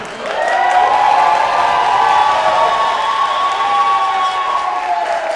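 Wedding guests at Leonard's Palazzo in Great Neck, New York burst into loud, sustained applause and cheering with whoops right after the couple is pronounced husband and wife, a dense, close crowd roar that fades slightly toward the end.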